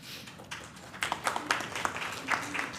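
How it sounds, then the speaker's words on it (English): Audience at a plenary meeting breaking into applause, scattered claps building into a modest round of clapping from a mid-sized crowd in a room. "I'm going to write down lots of applause so I know that that was a popular suggestion"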